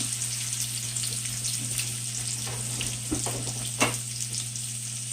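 Salmon patties fry in a pan of hot oil, giving a steady close sizzle throughout with a few faint pops and light clinks, and no one talking.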